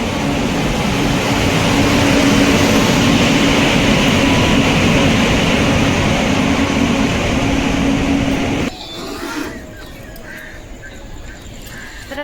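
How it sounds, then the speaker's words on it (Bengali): A train pulls into a station in the dark before dawn with a loud, steady rolling rumble and rail noise, then drops sharply to quieter clatter and squeaks as it slows. "এই যে ট্রেন ঢুকছে আমাদের।"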